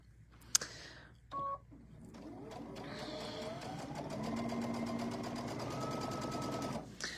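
Sewing machine stitching pieces of cream-colored tan fabric for a quilted turkey tabletop banner, a steady mechanical whir running for several seconds after a few clicks and beeps, close and moderately loud.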